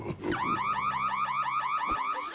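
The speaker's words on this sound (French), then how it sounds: "Qui a déclenché l'alarme?" A loud electronic alarm in a LEGO animated film, rapid repeating rising whoops in a fast even rhythm sounding alone and close for a couple of seconds.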